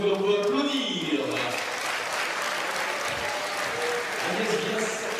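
Audience applause rings out at a women's petanque final, a steady dense clapping lasting several seconds, with a commentator talking over it.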